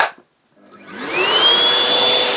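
A 1400 W Starmix NSG uClean ARDL 1432 EHP vacuum cleaner in blowing mode starts after a brief silence. Its motor whine climbs in pitch and settles into a loud, steady rush of air up close.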